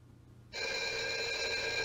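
An old-style telephone bell starts ringing after a brief quiet moment in an indoor room, a continuous bright metallic trill that is steady and close, with no voices heard.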